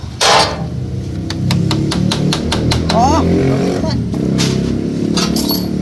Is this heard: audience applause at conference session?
no